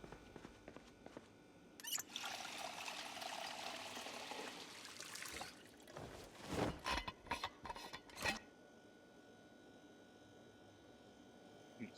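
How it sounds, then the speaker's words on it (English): Water is poured into an empty water bottle in the Project Zomboid video game, a soft, steady trickle with faint clicking mechanism sounds near the start and a few sharper clatters toward the end. "fill our empty water bottle."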